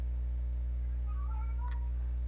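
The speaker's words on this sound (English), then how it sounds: "My cat is talking to me." A house cat meows once faintly, a short rising call set against a steady low electrical hum, with no talking.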